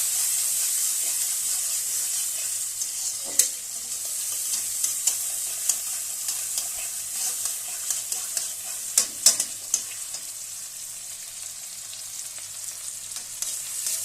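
Steady sizzling of chopped onion and tomato frying in a pan, with occasional sharp clicks and scrapes from stirring throughout.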